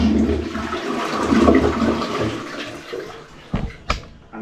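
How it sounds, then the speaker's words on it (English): A toilet in a top-floor washroom that had been backing up flushes loudly, a churning rush of water that swirls and gurgles before draining away with a couple of sharp knocks near the end. "that's the flush we were looking for"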